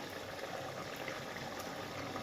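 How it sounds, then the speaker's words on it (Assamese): A steady bubbling and hissing of jackfruit seed curry simmering in a pot, continuous and close, with no voices. "মই এইখিনি ধুনীয়াকৈ উতলিছে তৰকাৰীখিনি"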